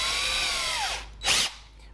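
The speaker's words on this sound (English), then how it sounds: "I'm going to put that in, and I'm going to drill 2 holes." A power drill fitted with a countersink bit bores into pallet wood for a smokehouse build. The motor whines and winds down, then gives a short, loud burst before easing off.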